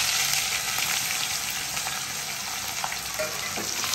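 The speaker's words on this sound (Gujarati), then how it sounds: "આપણું તેલ આવી ગયું છે, તો હવે એના ઉપર જીરું થઈ ગયું છે અને તમાલપત્ર" Cumin seeds, bay leaf, cloves and cinnamon frying in hot oil as the base for a bottle gourd kofta curry, giving a dense, steady close-up sizzle with a few faint stirring clicks.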